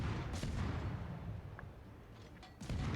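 Naval guns fire HE shells in a ship battle game, their booming reports overlapping in a dense, steady barrage with sharp cracks near the start and end.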